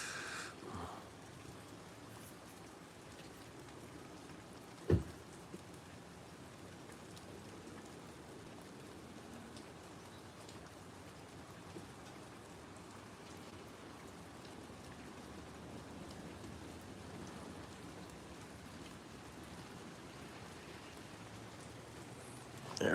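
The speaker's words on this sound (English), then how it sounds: "right now we definitely need the rain" Steady rain falls over a backyard, a soft continuous hiss with a single sharp knock partway through and no voices.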